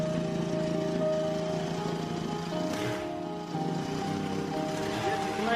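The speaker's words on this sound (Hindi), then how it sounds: "जितना एक्सीलेटर दबाते हैं उस हिसाब से ये ब्लेड घूमता है।" A small two-stroke brush cutter engine runs close by with a steady, buzzing drone as its blade spins, the pitch dipping and shifting slightly midway as the throttle changes.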